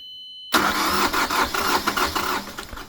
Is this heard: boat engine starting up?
yes